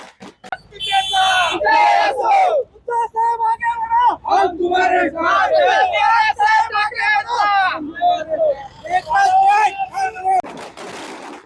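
Shiv Sena and MNS party workers celebrate in Yeola, a loud close crowd of excited voices shouting and cheering in bursts, with pops like firecrackers mixed in.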